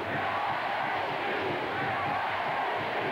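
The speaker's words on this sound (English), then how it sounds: "You can hear the fans chanting" A large stadium crowd of college football fans at Doak Campbell Stadium during a 1983 Miami versus Florida State game, a dense, continuous roar with chanting blended into the broad crowd noise.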